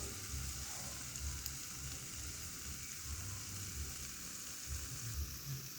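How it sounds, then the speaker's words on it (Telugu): Garlic pakodi (velluli pakodi) fritters frying in hot oil, a steady close sizzle with soft bubbling that runs unbroken throughout, no voices over it. "ఇంకొంచెం ఫ్రై అయితే సరిపోతుంది."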